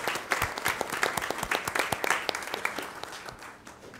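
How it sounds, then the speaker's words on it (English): Audience applause at a school board of education meeting honoring a high school JROTC group, a steady burst of many hands clapping at close range with no talking over it. "Join with me in a round of applause for the East High JROTC."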